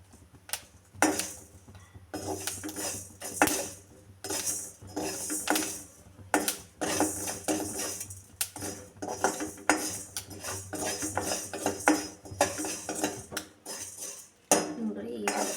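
Curry leaves and fenugreek powder are stirred and roasted in a metal pan: a spoon scrapes and clinks against the pan in steady, busy strokes that run without a break, close and fairly loud.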